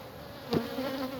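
Honey bees buzz at an open hive during queen rearing work, a close, steady droning hum with a brief thump partway through and no talking.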